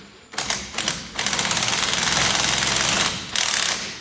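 A tool tightens a lock nut and Allen head bolt on Wilwood front brakes, giving close rapid mechanical rattling in short bursts and then a longer steady run.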